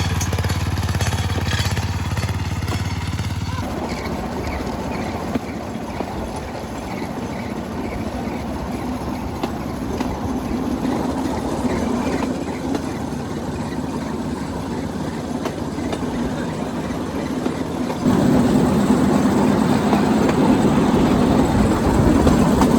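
A Cambodian bamboo train rolls along rickety rails with a loud, continuous engine drone and rattling wheel clatter, close and steady for the whole ride, intensifying toward the end.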